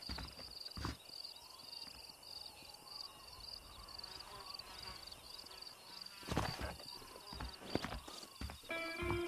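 Horse hooves clip-clop at an uneven pace near a shack in the Western game Red Dead Redemption, set against steady crickets and insect buzz, with a few sharper knocks and louder hoofbeats toward the end.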